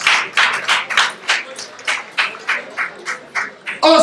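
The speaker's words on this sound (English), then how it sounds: "It's no other person than Mr. Godwin Osagie, please a round of applause." Audience applause at a memorial gathering, heard as a sparse, uneven run of separate claps from a small group, fairly close and moderately loud, ending in a brief louder burst.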